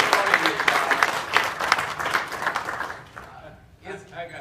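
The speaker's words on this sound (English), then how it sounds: "Let's give him another round of applause" An audience at a ceremony in Tuskegee claps loudly in sustained applause that tapers off toward the end, with voices audible beneath it.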